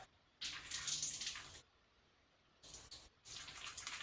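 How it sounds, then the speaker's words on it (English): Water from a cooking pot poured out into a kitchen sink comes in two bursts of loud splashing, the first longer and the second split by a short pause, with a quiet gap between them. "I'm going to my sink. I'm going to get rid of that water."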